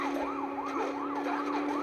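A police car siren from the Dead Rising 4 video game wails in steady rising and falling cycles, loud and continuous throughout, with no talking.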